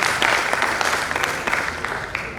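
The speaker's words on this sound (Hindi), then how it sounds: "एक ताली होनी चाहिए हमारी युवा साथी के लिए।" An audience at a stage play of Rashmirathi claps briefly, a short, fairly close burst of applause.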